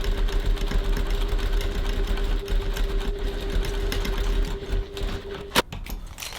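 A sewing machine runs steadily, topstitching a seam on a crossbody bag with an even mechanical whir, stopping near the end with a sharp click.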